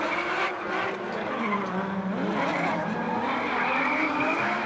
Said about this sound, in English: We're waiting for the revs to rise